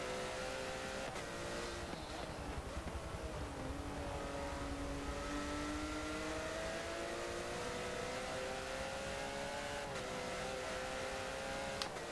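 A Porsche Cup race car engine brakes and accelerates on track, its loud continuous onboard drone falling and rising in pitch through corners, with gear shifts audible along the way.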